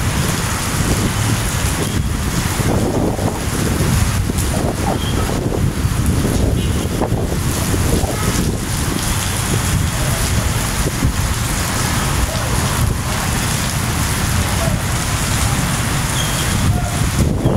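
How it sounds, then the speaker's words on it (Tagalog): Strong wind buffets the microphone in loud, roaring gusts, mixed with the hiss of driving rain, steady throughout. "Sobrang lakas ng hangin oh."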